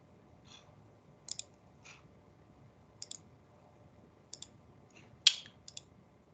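Computer mouse clicks, sharp and close, come singly and in quick pairs with gaps between, about seven in all, set against a quiet room.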